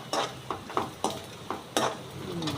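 Ginger garlic paste, along with goat spleen, sizzles in a frying pan with a steady crackle. Repeated scraping strokes of a stirring spoon come close and loud at a rhythmic pace.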